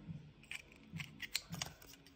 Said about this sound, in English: I use my scissors and cut it.